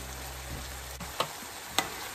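Vegetables and ground meat seasoned with salt and pepper brown in a pan for a gluten-free spaghetti pie, with a quiet, continuous sizzle and a couple of sharp stirring clicks.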